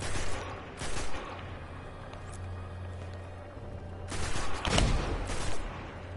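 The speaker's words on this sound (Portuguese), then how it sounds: "Tem que dar vários tiros pra matar." Gunfire in the PS4 video game Destiny during a mission on Venus, with repeated bursts of weapon fire over a constant low background rumble, loudest in clusters near the start and end.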